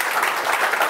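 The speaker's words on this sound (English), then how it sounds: "give Alex a round of applause" Audience applause at a lightning-pitch talk on becoming a thought leader, a steady dense wash of many hands clapping throughout, moderately loud and without any voice over it.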